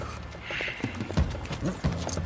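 Horse hooves clip-clop in Red Dead Redemption 2 during a chase, a run of fairly close, moderately loud hoofbeats with a few sharper thuds over game ambience.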